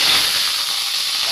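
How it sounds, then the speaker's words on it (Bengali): A catla fish head dropped into hot oil sets off a loud, steady hiss of frying that holds evenly from start to finish with no voices. "তেলটা গরম হয়েছে, আমরা মাছের মাথাটা দিয়ে দেবো।"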